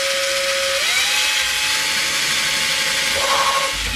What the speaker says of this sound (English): I'm drilling some pilot holes.